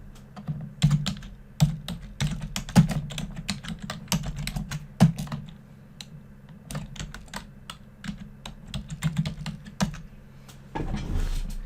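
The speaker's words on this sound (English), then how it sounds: "Now I'm going to type in the words Product Creation Checklist." Typing on a computer keyboard, close and clear, with irregular bursts of sharp key clicks and brief pauses between words, and a soft thump near the end.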